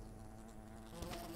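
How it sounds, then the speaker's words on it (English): Giant flesh-eating wasps buzz in the video game Fable Anniversary, a continuous, fairly faint droning hum with a slight rise near the end. "Oh yeah, giant wasps."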